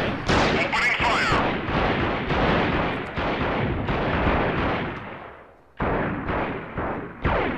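Video game gunfire in Freeman Guerrilla Warfare: dense, continuous volleys of loud shots and booming reports that roll on for several seconds, drop away briefly, then resume with fresh blasts near the end.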